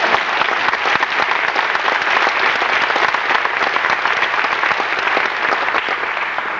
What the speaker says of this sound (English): I think first of all that we as a class deserve a round of applause